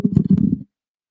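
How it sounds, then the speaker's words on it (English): One short, loud, low burp close to the microphone, a rough rumbling belch lasting about half a second before abrupt silence. "Oh God, here comes the burp."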